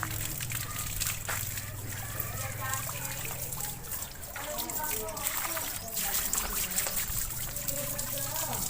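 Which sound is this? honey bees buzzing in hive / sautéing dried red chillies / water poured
water poured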